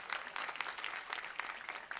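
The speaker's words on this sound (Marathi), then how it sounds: "काय टाळ्या मुडद्यासारख्या वाजवल्या तुम्ही." A kirtan audience gives sparse, half-hearted applause, with scattered claps that sound thin and somewhat distant and carry no cheering.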